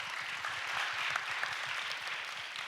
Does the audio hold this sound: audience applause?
yes